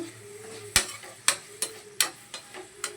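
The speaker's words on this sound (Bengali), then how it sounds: "এখানে দেখো কড়াইয়ে রয়েছে উচ্ছে এখানে উচ্ছে ভাজা হচ্ছে" Bitter gourd (uchhe) frying in a kadai, with a soft steady sizzle and several sharp clinks of a spatula scraping the pan at irregular intervals, close and fairly quiet.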